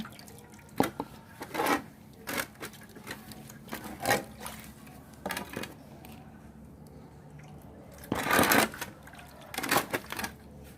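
Water splashes and pours in irregular bursts as a caladium plant pot is washed and refilled with fresh water. Soft drips and sloshes fill the gaps between the louder pours, heard close up with no speech.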